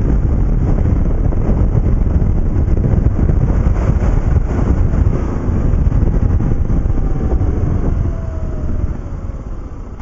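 A 2009 BMW G650GS single-cylinder motorcycle pulling away on a clutch start, its engine a loud, close rumble heard over strong wind buffeting that eases toward the end.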